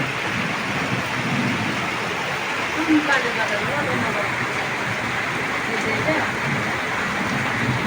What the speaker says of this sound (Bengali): এই দেখেন বৃষ্টির ফোঁটা কীভাবে পড়তেছে